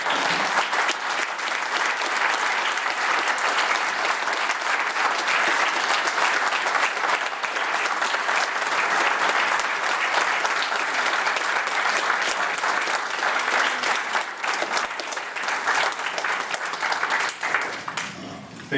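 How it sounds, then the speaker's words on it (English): Standing ovation from the audience at a Republican candidate forum in Mesa, a long, dense and steady roar of many hands clapping that holds at a constant loud level throughout. "Why don't you stand and let's give them a good round of applause again."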